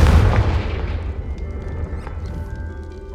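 A Confringo blasting spell goes off in Hogwarts Legacy with a heavy, close boom at the start that decays into a long, low rumbling tail.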